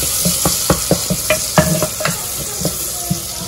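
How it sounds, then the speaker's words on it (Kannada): Spices tempered in hot oil for a greens and lentil sambar: a loud, close sizzle with a series of sharp crackles and pops in an uneven rhythm, some sounding like stirring against the pan, with no talking. "ಇಲ್ಲಿ ಒಗ್ಗರಣೆ ಹಾಕ್ತಾ ಇದ್ದೀನಿ."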